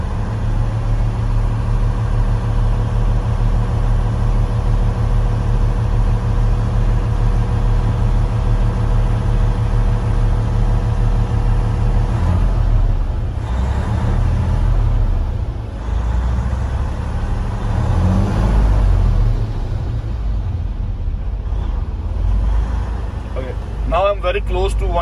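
A Class A truck engine runs as air pressure builds toward the governor cutout at 125 psi, a steady loud low drone for about twelve seconds before the tone changes, with someone talking over the later part.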